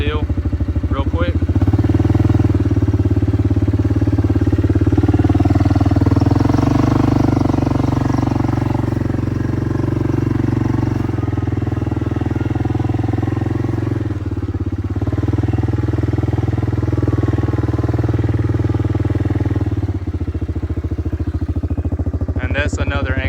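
A 1998-2001 Yamaha Grizzly 600 4x4 ATV in four-wheel drive climbs a hill, its engine droning steadily and loudly with a brief dip in the middle and rising again toward the end.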